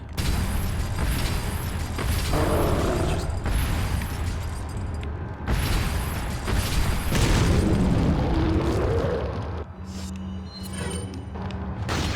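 A grenade goes off in the video game Resident Evil 4 during a fight in a mine, producing loud, deep rumbling booms with a long roaring tail, then quieter mechanical creaks and thuds.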